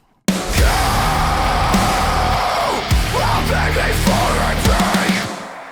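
Heavy screamed rock vocals in a mixed song, loud and sustained over dense, driving drums and distorted guitars for several seconds before the mix fades.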